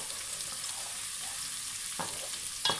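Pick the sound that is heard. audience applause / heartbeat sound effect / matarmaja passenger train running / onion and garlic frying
onion and garlic frying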